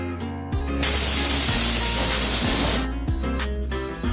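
A kitchen pressure cooker holding a moong and matki soup lets out a loud, sustained steam whistle, a continuous hissing blast lasting a couple of seconds amid a steady low hum and brief clicks before and after.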